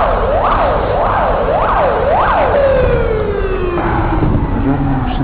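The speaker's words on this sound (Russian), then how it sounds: "Пожарные машины." Fire engine sirens wail through a frozen St. Petersburg street at about minus 20 degrees, several rising-and-falling cycles giving way to a long descending tone over traffic noise.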